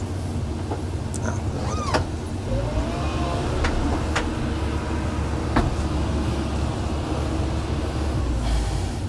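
Komatsu PC120-8 excavator imported from Japan with its engine held at full throttle, a loud steady diesel drone with occasional clanks and squeals from the machine.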